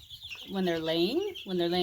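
A hen clucks up close in a few drawn-out, rising calls, loud and alone.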